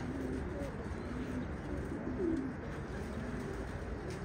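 Pigeons coo repeatedly at close range, soft and low, over a steady outdoor background hum.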